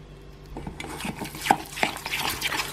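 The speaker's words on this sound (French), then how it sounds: "je mélange cette marinade" A spoon stirs a marinade of lime juice, olive oil, thyme, salt and pepper in a dish, producing close scraping swishes and small clinks against the bowl, with a few sharper taps in a quiet kitchen.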